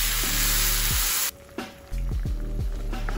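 Pork chops with onions sizzle loudly in a pan. The frying hiss is strong and steady, broken by brief dips and stirring scrapes.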